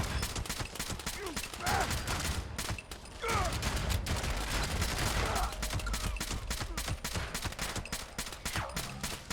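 Rapid gunfire in Fallout 76, sustained bursts of sharp, evenly spaced shots hammering away almost nonstop with only brief pauses, close and loud.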